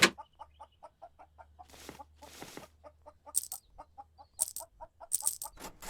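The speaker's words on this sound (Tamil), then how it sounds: "வெள்ளை கலர்ல இருக்கும் கோழி." A white chicken in the video game Farming Supermarket Simulator clucks in a steady, rapid rhythm of close, evenly spaced clucks, broken now and then by brief hissing bursts.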